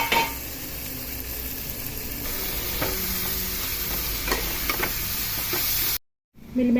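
Raw banana pieces frying in a pan for a banana and meal maker curry, a steady close sizzle with scattered stirring scrapes and utensil clicks, ending in a brief dropout.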